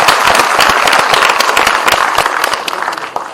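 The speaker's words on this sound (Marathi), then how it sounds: "सगळ्यांनी टाळ्या वाजवून स्वागत करा" Audience at the inauguration of a Marathi film festival in Goa breaks into sustained, dense applause, many hands clapping steadily and loudly throughout without any talk over it.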